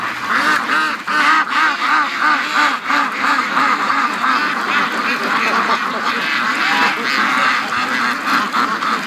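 A flock of free-range Muscovy ducks at an icy lake calls nonstop, a dense, loud chorus of overlapping quacks and honking notes with no pause.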